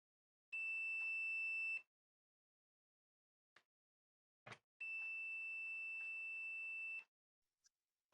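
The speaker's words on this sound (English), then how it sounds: "we are hearing multimeter beeps" Multimeter continuity tester on a car fuse in a cigarette lighter circuit, giving two steady electronic beeps, one short and one longer, with faint probe clicks between them.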